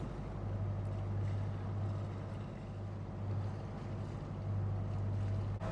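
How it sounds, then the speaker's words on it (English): Small motorboats run up a harbour on an outgoing tide, giving a steady low engine drone with some wind noise, fairly near and continuous, with no voices. "there's been quite a few smaller boats heading up harbour"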